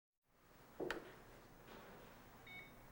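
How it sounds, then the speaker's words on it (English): A Jura Impressa Z5 coffee machine gives a short electronic beep near the start as its rotary dial is pressed, over a steady machine hum, followed by a faint high tone later; quiet and close. "Begin by pressing the rotary dial until you hear a beep."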